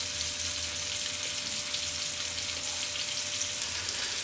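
Steady, dense sizzling of Bombay duck fish pieces frying in hot oil, close and continuous with no pauses, a faint low hum underneath.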